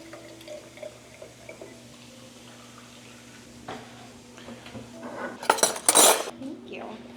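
Dishes and cutlery clink softly in a kitchen at mealtime, with a louder burst of clattering and pouring near the end, likely sparkling water going into a glass beside the plates.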